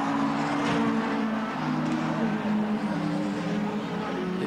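Ford Mondeo touring cars race at Donington in 1993, their engines giving a loud, steady, overlapping drone with shifting pitch. No distinct crash impact stands out.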